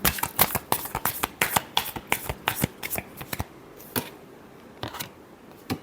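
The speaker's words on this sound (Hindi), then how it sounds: "Last shuffle." Tarot cards riffled and shuffled by hand, a close, crisp burst of rapid papery snaps that thins into a few scattered taps toward the end, with no talking over it.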